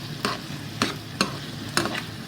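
Tomatoes stir-fried in a pan for an asparagus gravy, four distinct scraping stirs at regular intervals over a soft continuous sizzle, close by.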